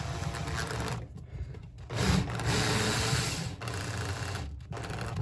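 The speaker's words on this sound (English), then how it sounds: "the drywall screw just goes in like so into soft drywall" A screw is driven into soft drywall with a power driver, producing a continuous whirring, grinding buzz that runs for several seconds with short dips, close and moderately loud.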